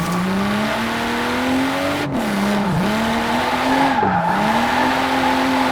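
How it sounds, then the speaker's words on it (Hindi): A BMW M4 Coupe drifts in third gear, its engine droning steadily while the tires squeal continuously, the pitch dipping and rising with throttle changes; loud and close, with no talk. "तो जैसे आप देख सकते हो, तीसरे गियर में ये गाड़ी में ड्रिफ्ट करना बहुत आसान है"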